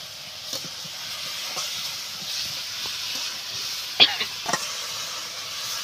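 Shing fish with masala is tossed and stirred in a pan over a wood-fired clay stove, a steady frying hiss with a few scattered clinks and two sharper scrapes toward the end, no talk.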